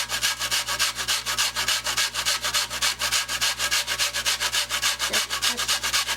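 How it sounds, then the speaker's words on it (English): Food scraped against a box grater in a kitchen, in rapid, even back-and-forth strokes, close and fairly loud with no talking. "grate a little bit of this in here to give it some flavor right here"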